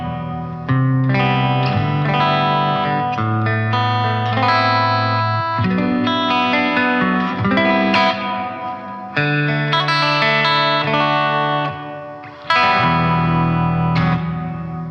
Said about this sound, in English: you hear the reverb decaying a little bit